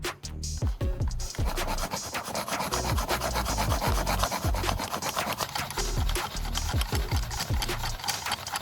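Sand shaken through a sieve, producing a steady, dense gritty rasping and scratching that carries on continuously and close by without any talk.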